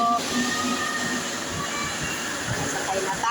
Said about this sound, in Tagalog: Dyan na guys yung tren.